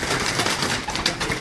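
Breeder pigeons cooing in a dense, continuous chorus, many soft overlapping coos close by with a busy background.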